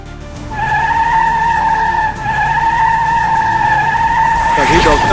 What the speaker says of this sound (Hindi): तभी डॉक्टर शक्तिमान अपनी फ्लाइंग कार का पावर दिखाते हैं और गाड़ी को गोल गोल घुमाकर सारे एलियंस को मार देते हैं